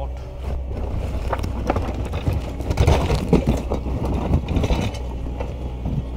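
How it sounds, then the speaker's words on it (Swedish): Outdoor wind at a building site where a house foundation is being prepared, a steady low broadband rush with gusting swells throughout, fairly loud and close to the microphone, with no voices over it. "Det börjar blåsa lite grann med."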